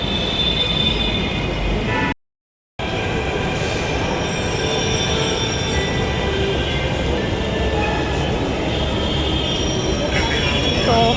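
A crowded Delhi Metro train rumbles and hums steadily at a platform with faint screeching and crowd murmur, briefly interrupted by a moment of silence.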